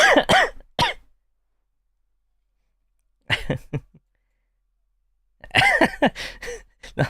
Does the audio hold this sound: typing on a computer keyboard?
no